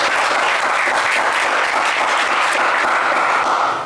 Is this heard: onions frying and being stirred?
no